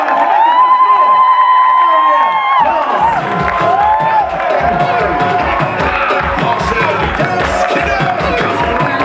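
A poetry-event audience at the Nuyorican cheers, whoops and claps loudly after a shouted voice, a dense roar of crowd noise with rhythmic clapping filling the space.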